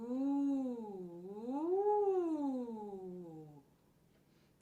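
A voice imitates a siren on a sustained 'ooh', sliding smoothly up and down in pitch in a slow undulating wave, close and clear with no other sound.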